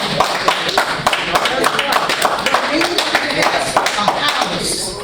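Several people clap at the back of a board meeting, a dense, steady patter of applause lasting throughout, close and loud.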